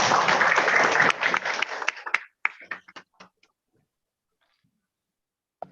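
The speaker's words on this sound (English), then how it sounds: "Give applause." A seminar audience gives a short burst of applause lasting about two seconds, tapering into a few scattered claps before silence.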